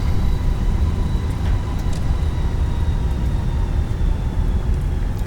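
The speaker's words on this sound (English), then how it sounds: "let you hear them engines" Airbus A320 jet engines on a rolling takeoff in a flight simulator, a steady loud low roar with faint whining tones above, continuous and without talk.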